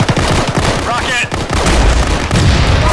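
Explosions and gunfire in the Arma 3 video game, loud booms and crackling blasts over constant heavy noise, with shouting voices mixed in.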